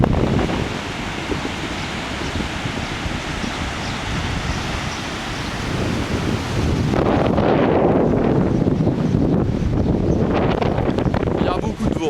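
Strong wind by the sea at Calpe roars and buffets the microphone continuously, with a broad surf-like rush beneath it growing heavier partway through.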